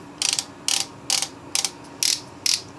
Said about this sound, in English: It has this little twisty thingy, and I can't even tell if I'm twisting it right.